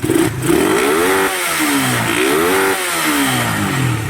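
Close motorcycle engine revving repeatedly, pitch climbing and falling in three loud sweeps over a rough idle, topping out around 8,000–9,000 RPM.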